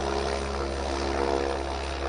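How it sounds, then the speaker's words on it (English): Helicopter flying at an aerobatic show during the Tianjin helicopter expo, a steady loud rotor and engine drone that holds without a break for the whole stretch, with no voices over it. "This is a helicopter belongs to the company in Tianjin."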